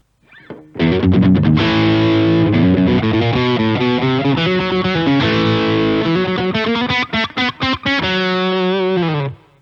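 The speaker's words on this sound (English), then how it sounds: "That was the sound of the Nobels ODR1." Electric guitar through a Nobels ODR-1 overdrive pedal plays a riff of chords and single notes, gritty and sustained, with a few quick choppy stabs near the end; no talking.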